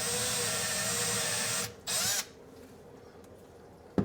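A power drill with a small 2.5 to 3 mm bit bores a pilot hole while a pullout waste bin is fitted under a sink; a steady loud whine runs about 1.7 seconds, then a brief second burst and a click.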